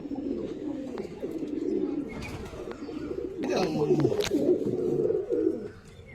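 Loft pigeons coo repeatedly in low, throaty rolls, several birds overlapping close by with a steady murmur of background noise.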